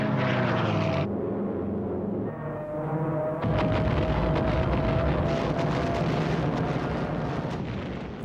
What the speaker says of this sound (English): As the Japanese aircraft dived into the attack